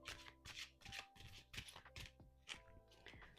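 Tarot cards shuffled by hand and rotated between passes, giving a rapid series of crisp riffling bursts over a faint steady background hum, close and moderately quiet.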